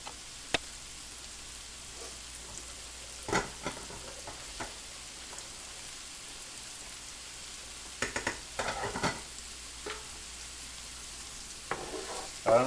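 Mushrooms frying in about a quarter stick of butter in a pan, a soft steady sizzle broken by occasional scrapes and taps of stirring, fairly quiet, with no talking.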